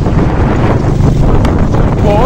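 Wind blasting into a phone microphone outdoors, a loud, close buffeting roar with gusting swells across the whole short clip.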